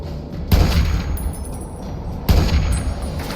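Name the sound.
gunshots in the video game Fallout (Tale of Two Wastelands)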